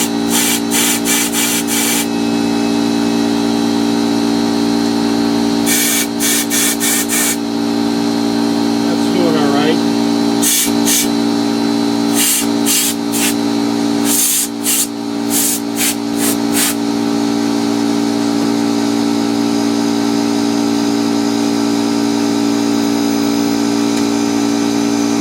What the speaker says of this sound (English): I'll shoot some air in the burner tubes.